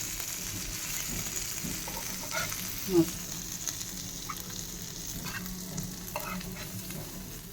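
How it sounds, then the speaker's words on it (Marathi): Crisp bangda mackerel sizzles in a frying pan, a steady close hiss and bubbling with occasional stirring clicks and small pops throughout, fairly loud with no voices over it. "हे बघा आपले कुरकुरीत बांगडा फ्राय तयार आहे।"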